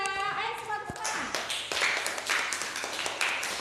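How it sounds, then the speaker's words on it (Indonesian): Pupils in a classroom clap together for a group of classmates, a quick run of sharp, fairly soft hand claps mixed with children's chatter and a voice. "Ayo semua tepuk tangan."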